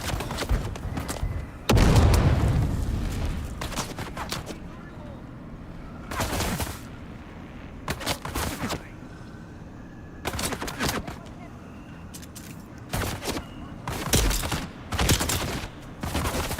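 Gunfire in the video game Dune Awakening: repeated bursts of rapid shots and booming impacts, loud and near, clustered in volleys with short gaps between them.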